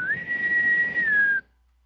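A single sustained whistled note, clear and close, holds steady for over a second with a slight rise at the start and a gentle fall before cutting off abruptly into silence.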